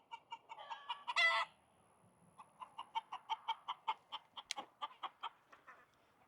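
Hens cluck in a quick, steady series of short calls in a barn, broken early by a brief rooster crowing burst, all fairly quiet with nothing else around.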